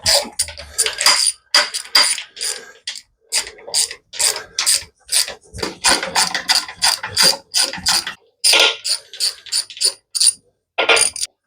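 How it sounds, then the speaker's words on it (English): Ratcheting on the bolts of a John Deere crawler final drive, a loud close run of rapid clicking bursts broken by short pauses, with no talk. "All right, all the bolts are tightened up."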